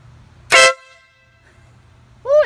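A Denali Sound Bomb vehicle horn being tested after wiring: two loud, sharp blasts, a short one with a bright buzzing tone and a second that starts as the clip ends, separated by quiet, with no voices.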